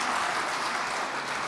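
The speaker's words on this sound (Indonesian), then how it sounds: "Tepuk tangan yang keras." Members and staff applauding during an Indonesian parliamentary (DPR) hearing with the national narcotics agency, a dense, steady wash of clapping from a room full of people.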